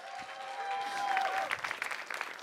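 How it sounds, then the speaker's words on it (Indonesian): An audience at an Indonesian stand-up comedy show claps for comedian Gilang Baskara, a fairly faint, brief burst of applause that swells and then thins out into scattered claps. "tepuk tangan yang meriah untuk Gilang Baskara"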